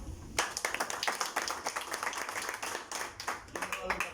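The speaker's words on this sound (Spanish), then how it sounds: "Vamos a darle un aplauso a él." A small community audience of young people claps for a participant in a burst of uneven, fairly close handclaps, some louder than others, with faint voices mixed in.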